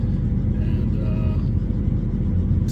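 Steady low engine rumble of a 6.0 Powerstroke diesel truck cruising on the road, a continuous close cabin drone with faint road whir and no distinct revving.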